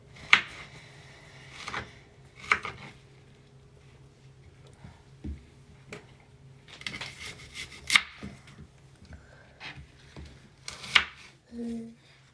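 Knife chopping strawberries on a board, a few sharp distinct cuts spaced irregularly with quiet handling sounds between, close and fairly faint.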